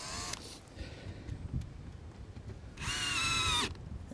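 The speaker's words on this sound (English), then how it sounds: "Let me go ahead and stick that fastener back in that hole before I forget it." A power drill drives a fastener into a metal roof during flashing boot installation, with a short whine at the start and a louder, longer burst near the end, quiet rustling between.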